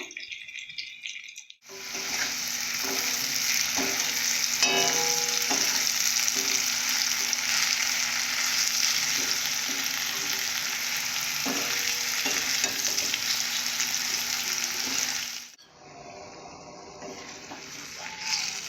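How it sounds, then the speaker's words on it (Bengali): Rohu fish curry masala with fried potatoes sautéing in a pan gives a loud, continuous close sizzle with occasional scraping and stirring clinks, stopping abruptly near the end before quieter kitchen sounds. "এইভাবে আর কিছুক্ষণের জন্য কষে নেবো"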